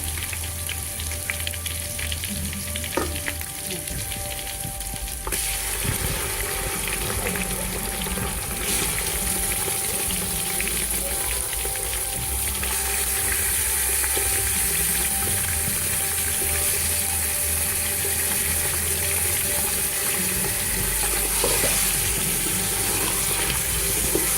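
Chicken pieces sizzle steadily in a pan as they fry for a Pakistani korma, with a constant hiss and crackle through the whole stretch and occasional faint scrapes from a spoon stirring, no voices.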